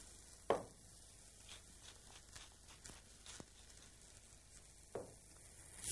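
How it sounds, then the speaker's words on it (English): Spiced food frying in a pan over high heat while being stirred, a steady soft sizzle with occasional scraping and clunking spoon strokes, close and quiet with no talk. "And then just keep it stirring like that, with the heat fairly high, for about 3 to 4 minutes."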